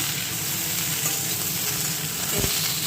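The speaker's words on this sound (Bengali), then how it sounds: "বেগুনটা ভাজা হয়ে গেছে এখন" Eggplant fries in a pan with a dense, steady sizzle heard up close, along with a light stir or scrape near the end of the short stretch.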